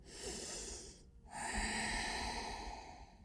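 Slow, deep breathing during a yoga session for pelvic floor muscles, a long airy exhale, a brief pause, then another drawn-out breath, close and soft, with no talk.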